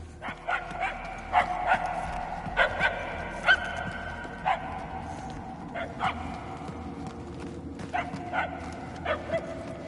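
Distant dog barking in irregular bursts of two or three sharp yaps at a time, carrying over a constant low ambient rumble, fairly faint and remote throughout.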